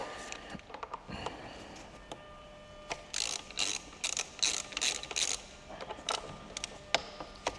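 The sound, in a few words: tool loosening motorcycle brake caliper pin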